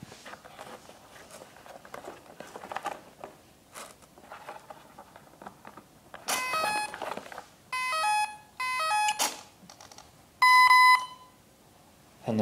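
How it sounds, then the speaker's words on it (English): An ESC emits calibration beeps in short bursts, rising tone patterns followed by a longer steady beep, over faint mechanical background noise. "You will hear a series of beeps."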